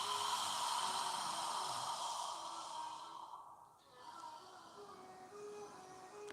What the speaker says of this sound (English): As you exhale, imagine you're fogging a mirror with your breath